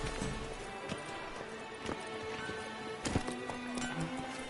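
Hoofbeats of Roach, a horse in a video game, clip-clop through a steady ambient game soundscape, with a few louder thuds and a faint tonal hum; no talk.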